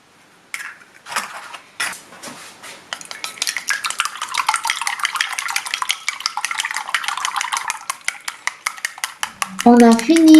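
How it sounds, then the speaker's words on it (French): Rapid, steady clinking of a whisk or fork beating three eggs in a bowl, starting with a few separate taps and then settling into a fast continuous rhythm, close and fairly loud, with a short burst of other kitchen noise at the end. "on casse 3 œufs et bien les mélanger"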